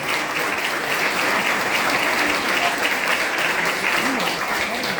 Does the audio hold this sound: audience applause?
yes